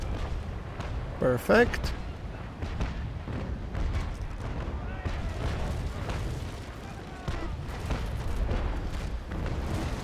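Six-pounder long cannons fire in the naval battle game Naval Action Legends, producing a dense run of heavy booms and rumbling blasts over a continuous roar, with someone briefly speaking.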